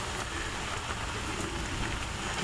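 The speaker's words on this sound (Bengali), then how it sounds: "বৃষ্টির ঝমঝম আওয়াজ" Heavy rain pours in a dense, continuous hiss with a constant loud wash of drops and no pauses, heard in a village setting.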